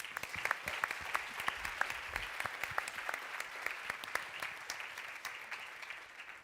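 Audience applause at a climate change conference session, many distinct individual claps forming a sparse, moderately quiet round of clapping that carries on steadily.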